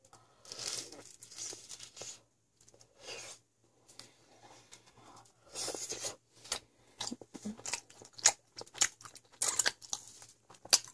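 Close-up bites and crunchy chewing of a spicy pork (jeyuk bokkeum) triangle kimbap, with irregular bursts of mouth noise and short pauses between chews, no talking.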